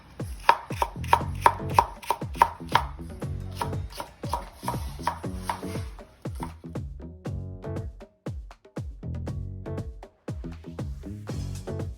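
Knife thinly slicing green onion on a cutting board makes a quick, even run of sharp chops, close and distinct, continuing in bursts with brief pauses.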